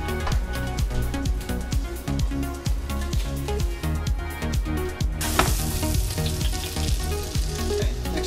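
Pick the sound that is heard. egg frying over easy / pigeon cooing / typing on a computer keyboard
egg frying over easy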